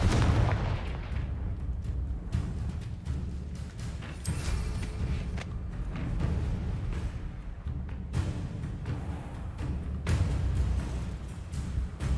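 Repeated Confringo spell explosions in the video game Hogwarts Legacy, a dense run of heavy booms and blasts over loud combat noise with no talking.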